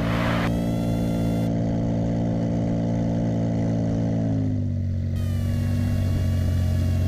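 A light aircraft engine drones loudly and steadily, then its pitch sags as power is pulled back for landing, the steady tone stepping down midway and holding lower through the end.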